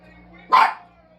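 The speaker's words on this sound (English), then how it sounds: "Teddy barking at nothing." Teddy the dog lets out a single sharp bark close by, standing out against a quiet room hum.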